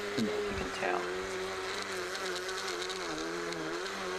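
Husqvarna 325 IOK battery trimmer running steadily on a BLI 300 battery, cutting overgrown vegetation along an edge, a continuous motor whine with brief bursts as stems are hit.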